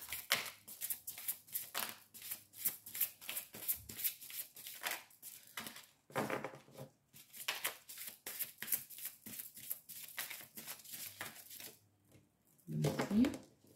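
Tarot cards are shuffled in repeated quick riffling bursts through most of the stretch, close and moderately loud, with brief pauses and a louder handling sound near the end.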